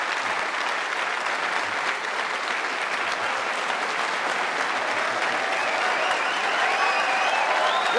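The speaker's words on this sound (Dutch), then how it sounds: "Ik wil graag uw applaus vragen, voor we beginnen, voor de onderhoudsman van de zaal." Applause from a theatre audience at a live comedy show in a hall, sustained dense clapping that fills the room steadily from start to finish with no break.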